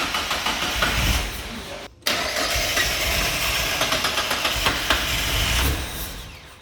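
A Mazda MX5 track car engine fitted with individual throttle bodies cranks and fires, running rough and lean with uneven pulsing, briefly cutting out before catching again and idling loudly close by.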